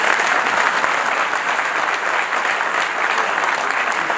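An audience at a Hindi public speech about Buddhism breaks into loud, sustained applause, dense clapping holding steady throughout without any voices on top.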